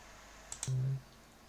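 A computer keyboard's F5 key is pressed, with a couple of quick, faint clicks close by, followed by a short low hum.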